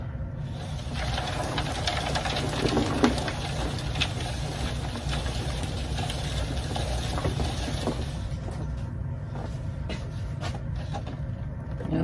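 A spinning worm sifting harvester gives a steady mechanical whirr with a rattling, rumbling undertone that runs unbroken and close for the whole stretch, with no talking.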